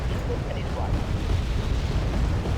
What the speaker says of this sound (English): That rocket artillery, though.